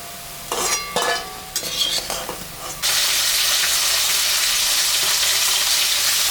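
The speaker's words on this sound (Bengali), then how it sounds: "আমি চাল কুমড়া পকোড়া ভাজলাম" Ash gourd pakoras deep-fry in oil. A few seconds of clattering and stirring come first, then a loud, dense, continuous sizzle takes over and holds steady to the end.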